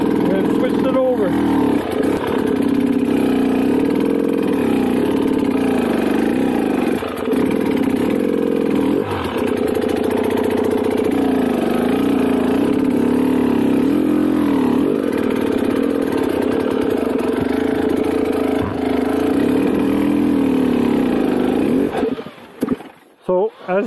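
A dirt bike engine on an enduro machine runs steadily and close during a clutch and throttle control drill, its revs rising and dipping in gentle waves before cutting off abruptly near the end.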